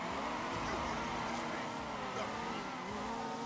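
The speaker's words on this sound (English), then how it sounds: "Oh, these engines are loud." Loud car engines in Midnight Club: Los Angeles, a steady dense roar with shifting revs and overlapping engine tones, continuous and close throughout.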